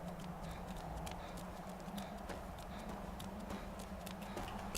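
Steady clip-clop of horse hooves, a quick regular rhythm of light knocks over a constant low drone.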